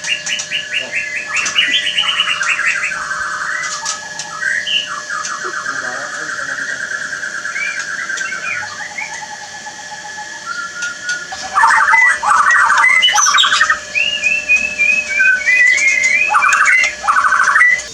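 Murai (magpie robin) birds sing and call at a breeding farm, with bright whistled phrases and chirps close by that grow louder and busier toward the end, over faint background hum.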